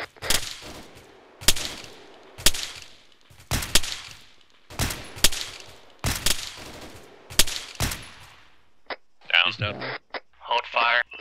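Sharp gunshots in Arma 3 ring out in a steady rhythm of about eight loud cracks, each with a short echoing tail, followed by clipped radio-style voices at the end.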